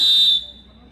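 A timer buzzer at a shooting competition gives one loud, sharp electronic beep that cuts off quickly and leaves a quiet tail.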